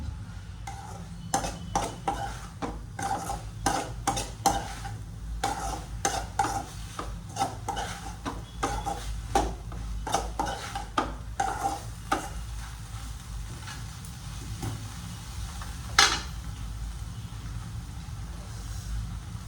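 Gobi (cauliflower) pieces being stirred in a hot pan, a sequence of rhythmic scraping, sizzling strokes against steady frying hiss, one sharp clank near the end, with faint talking now and then.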